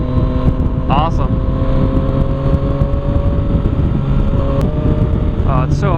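Yamaha FZ-09 street bike fitted with an Arrow exhaust, dB killer removed, ridden on the road: a loud, steady engine drone with wind rush that holds its pitch throughout.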